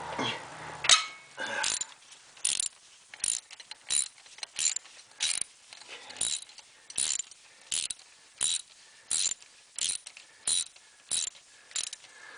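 Ratchet clicking in quick repeated bursts, about a dozen short strokes with brief pauses between them, while loosening bolts on the 3.9L engine of a 1993 Dodge Dakota; close and clear, with no talk.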